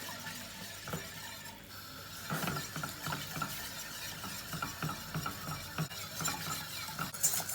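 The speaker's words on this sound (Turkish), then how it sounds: "Bunu kaynayana kadar karıştıracağız" Stirring a sauce of flour and cold milk in a pan as it heats to a boil makes busy, repeated scraping and clinking of a utensil against the metal, with a faint bubbling hiss underneath.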